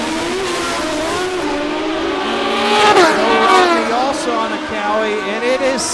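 A pair of Kawasaki drag racing motorcycles at a drag strip, a loud high revving engine whine rising and peaking midway, heard under a commentator's talk.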